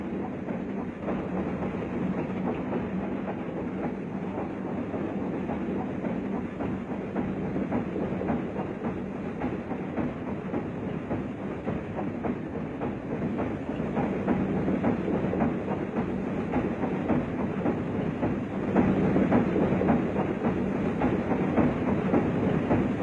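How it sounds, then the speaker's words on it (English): A massive DD-52 diesel locomotive runs along an Indonesian railway line among mountains and rice paddies, its steady heavy rumble and rhythmic wheel clatter continuous and close for the whole stretch, growing slightly louder toward the end. "As the mammoth DD-52 arrived at the wayside station of Neles,"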